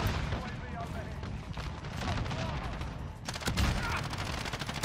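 Rapid gunfire and explosive bursts in a shooter video game, sustained throughout with a sharper, louder volley near the end, mixed under excited talking.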